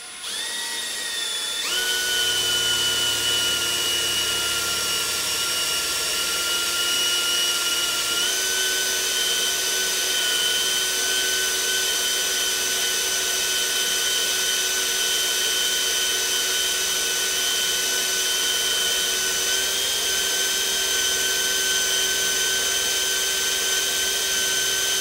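A Milwaukee M12 half-inch hammer drill in drill mode at speed 2 bores a quarter-inch bit through quarter-inch steel plate, a steady loud whine running alone and unbroken, with its pitch stepping slightly as pressure changes.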